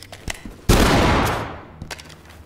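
A loud shotgun blast from the tactical shooter game Ready or Not, one sharp crack followed by a long decaying roar, with a few fainter shots and clicks around it.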